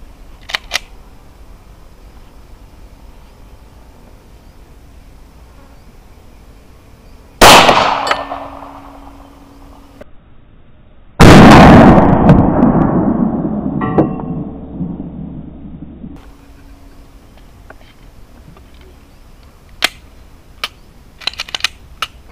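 Glock 19 pistol firing 9mm FMJ 124gr rounds, two loud sharp shots several seconds apart, each with a ringing decay, then quieter clicks and handling noises.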